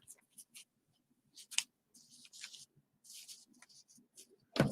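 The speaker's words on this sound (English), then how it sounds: "Need my fabric scissors in here though." Fabric scissors snip in a few quick, close cuts, with short crisp bursts scattered between quiet gaps.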